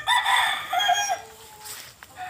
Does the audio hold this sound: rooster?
yes